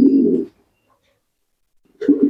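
Two low, throaty pigeon coos, one at the start and another after a silent pause, both close and clear.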